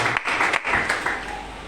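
A congregation applauding the Lord at the close of a prayer marathon, a dense burst of many hands clapping together that gradually thins out, with a voice over it.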